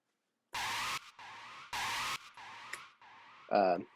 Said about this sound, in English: It sounds like somebody pumping the brakes really fast.